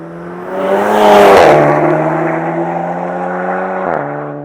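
Stage 2 tuned Seat Leon Cupra revving hard, a loud, steady engine drone with exhaust roar that climbs, holds and dips briefly near the end, close by with no talking.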